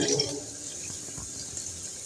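Sprouting seeds rinsed under running water in a kitchen, with a soft continuous stream and gentle splashing, close and moderately quiet, with no talking.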